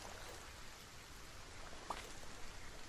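Steady hiss of rain falling in the survival game Solarpunk, an even broadband wash with faint droplet patter throughout, no speech.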